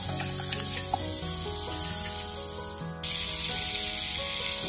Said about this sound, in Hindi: बटर डालेंगे।